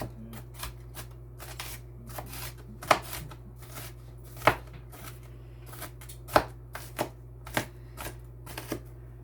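A knife slices food on a cutting board behind a steel finger guard while meatballs are prepped, giving a steady run of light, quick cutting taps with a few sharper, louder chops.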